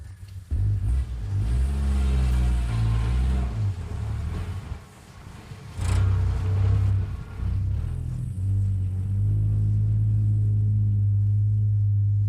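An old car's original engine idles and revs with a deep, throbbing rumble, dipping briefly midway before settling back into a steady low drone, close and loud.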